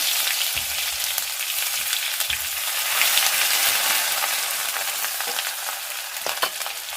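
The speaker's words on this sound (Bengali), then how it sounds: "আর এই যে দেখো, আদা রসুনের পেস্টটাও দিয়ে দিলাম।" Ginger-garlic paste sizzles steadily in hot oil with cardamom and cloves, a continuous close frying hiss with occasional soft stirring clicks and no voices.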